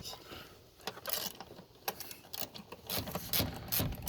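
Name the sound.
ratchet removing 8mm screw on Honda Civic idle air control valve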